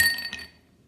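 Ice cubes clink into a rocks glass, a single bright glassy chink that rings briefly and fades quickly, close and fairly loud with no talk.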